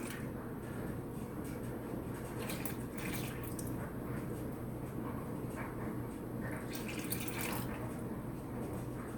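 Almond milk pours into a measuring cup, a steady liquid trickle with brief splashy bursts, heard alone at close range.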